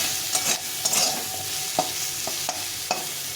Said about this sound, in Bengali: আলু পেঁয়াজটাকে সুন্দরভাবে ভেজে নিতে হবে